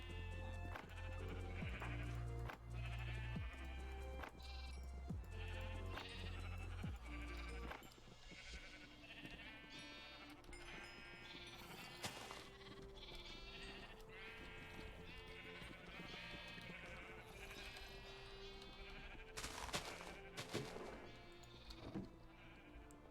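Sheep bleat again and again in the Minecraft video game, their bleats layered over steady lofi chill background music throughout.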